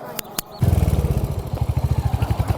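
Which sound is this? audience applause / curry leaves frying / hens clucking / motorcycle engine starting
motorcycle engine starting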